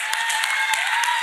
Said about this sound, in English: Let us clap louder, people of God.